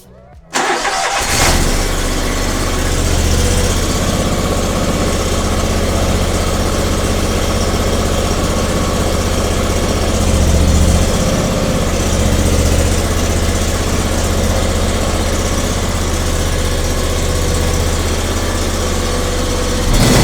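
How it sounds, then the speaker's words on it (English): A car engine cranks and fires up, then settles into a steady, loud idle that runs on for the rest of the stretch with a low rumbling hum as it warms up before an oil change. "let me warm up this engine, get a little heat on it"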